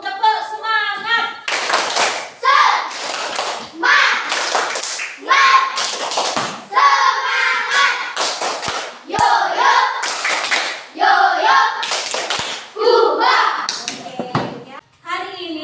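Standing students in a classroom perform a rhythmic spirit clap, loud patterned bursts of clapping alternating with children chanting in unison, repeating over and over.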